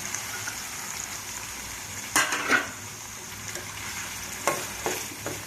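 Onions and green chillies fry in a pan with a soft continuous sizzle, broken by a few clattering scrapes of a spoon stirring against the metal.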